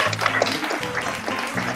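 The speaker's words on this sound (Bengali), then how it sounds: "দাস পরিবারের জন্য একটা হাততালি হয়ে যাক।" An audience at a Ratha Yatra event in a Haldia store claps for a family, close and lively, with voices and music mixed into the dense clapping.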